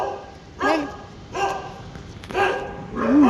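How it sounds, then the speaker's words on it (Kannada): A dog barks close by in four separate bursts spaced about a second apart, each a short loud woof with a whiny edge, against a quiet household background. "ಬೊಗಳ್ತೀಯ?"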